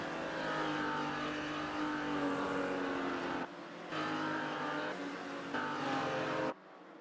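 1950s Formula 2 race cars racing on a circuit, loud close engine roar holding steady notes with abrupt cuts and returns as cars pass and shift, with no talk.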